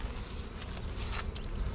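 Honey bees swarm over a brood frame lifted from a hive during a colony split, a dense steady buzzing hum close to the microphone throughout, with no voices.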